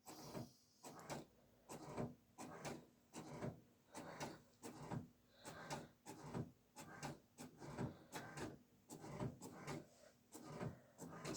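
A printer runs with a steady, regular rhythm of scraping mechanical strokes, repeating roughly twice a second, fairly quiet and with no talk.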